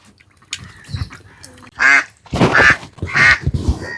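Two ducks quacking loudly and close by in an outdoor village setting, a run of harsh nasal calls coming in bursts with short gaps.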